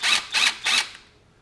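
A power driver zips off the cam chain tensioner bolts on a 50cc scooter, three quick close whirring bursts in a row followed by a faint tail of quiet.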